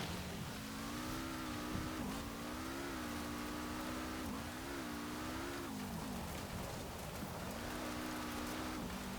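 An upgraded Lego Speed Champions car engine drives in Forza Horizon 4, a loud, steady engine drone whose pitch climbs and dips with gear changes and throttle, over a constant hiss of track noise.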